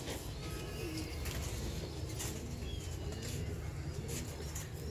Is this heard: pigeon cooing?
yes